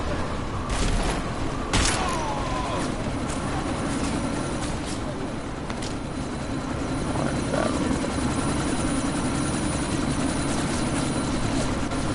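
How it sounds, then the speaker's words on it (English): Helicopter rotor thrumming steadily in the Deus Ex: Mankind Divided video game during a sandstorm, a loud continuous drone with a few sharp booming hits near the start. "you need to disable that chopper"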